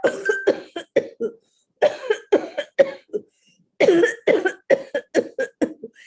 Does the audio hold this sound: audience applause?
no